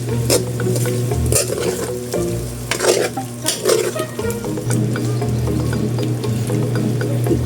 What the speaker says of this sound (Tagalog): Halawin natin mga idol.